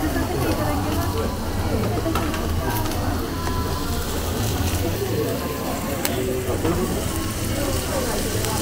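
Food sizzling on a hot griddle, a steady dense crackle and hiss running throughout, with a faint voice over it.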